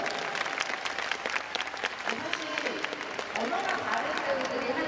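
Audience applause at an open talk event at the Busan International Film Festival, a steady crowd clapping filling the space for several seconds, with some voices mixed in.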